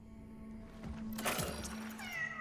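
A single drawn-out cat meow rises clearly in the video game Cronos: The New Dawn, loud and close over a low steady game hum, with a soft chime at the end.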